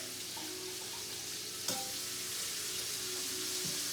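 Chopped garlic fries in olive oil and butter for chicken piccata sauce, giving a constant soft crackling sizzle with one brief knock partway through, and no speech.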